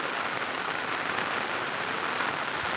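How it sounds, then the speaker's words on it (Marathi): Heavy rain pours steadily through a forest, a dense, even hiss of downpour close around the listener with no pauses and no voices. "पाऊस तर खूप जोरात आहे"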